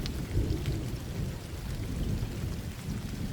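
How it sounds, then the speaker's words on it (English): Steady rain pours down with a low, continuous rumble of thunder beneath it, filling the scene at an even level throughout. "The rain fell in fine drops that barely touched the windshield"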